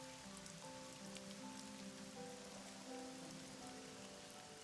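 Soft, steady rain patters continuously as a quiet sound effect, with faint sustained tones beneath it.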